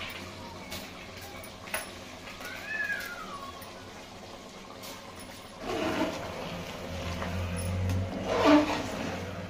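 Hot water is poured into three cups of washed rice, six cups in all, for biryani. The pour is a soft, rushing stream in the latter half, preceded by a brief, high squeal, and all of it is fairly faint.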